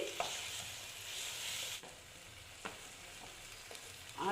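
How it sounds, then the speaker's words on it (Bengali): A spoon stirs chana dal halwa with raisins in a pan, soft scraping strokes over a faint sizzle, with a few sharper scrapes spaced apart. "দেখো বন্ধুরা আমি এইভাবে নাড়িয়ে নিচ্ছি"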